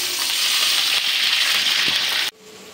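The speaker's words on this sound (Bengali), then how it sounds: "পেঁয়াজটা বাদামি করে ভাজা হয়ে গেছে। এখন মশলা দেওয়ার জন্য একটু পানি দিয়ে দিই।" Browned onions hiss and crackle loudly in a hot pan as water is added, a dense steady sizzle that cuts off abruptly near the end to a quieter simmer.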